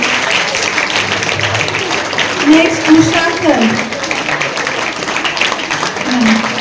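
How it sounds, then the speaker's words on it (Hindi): Schoolchildren keep up steady applause for teachers at a Teachers' Day function at Anjuman-e-Islam Anglo Urdu High School in Sangamner, a dense clatter of many hands throughout while a man announces over a microphone. "बच्चों ताली रुकनी नहीं चाहिए."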